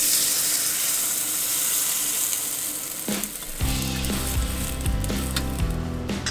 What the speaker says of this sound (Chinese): 简单翻炒， 加入刚好没过食材的热水